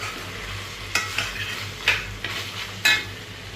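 Pasta being stirred together with minced meat in a pan, close and steady with a soft sizzle underneath and a few sharper scraping clinks of the utensil against the pan.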